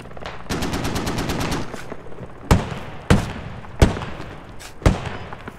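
Rapid bursts of automatic gunfire from a squad shooter video game, a sustained rattling volley followed by four separate loud single shots spaced about a second apart, with no talking.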